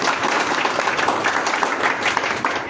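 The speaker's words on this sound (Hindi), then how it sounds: "जी तालियां तो 200 होनी चाहिए।" Dense applause from an audience at a ceremony in Lahore honouring masters and their students, a steady wash of many hands clapping throughout.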